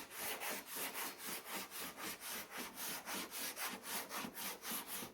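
Rhythmic back-and-forth strokes of a sanding block across CRE321 high build epoxy primer on a complex curved shape, steady and close, with no talking.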